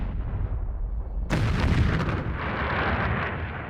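A heavy blast from an exploding V2 rocket erupts abruptly out of low rumble, then rolls on as a sustained, roaring, debris-filled boom that slowly fades without fully dying away.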